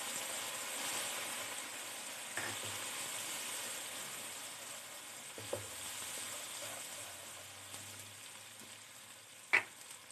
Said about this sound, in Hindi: हमने अदरक लहसुन की है भुनाई,